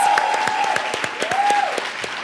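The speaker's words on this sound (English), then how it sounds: "Let's give a huge round of applause." Audience applause at a women's town hall, a steady wash of many hands clapping close and loud, with a sustained tonal whine running under it.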